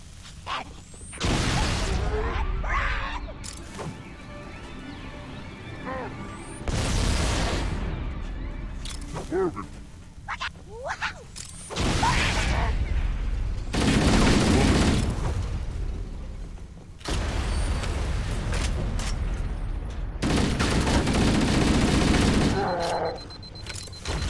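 Sticky grenade explosions in Halo: Combat Evolved, five or six heavy booms spaced a few seconds apart, each a broad loud blast decaying into rumble, with gunfire and game sounds between them.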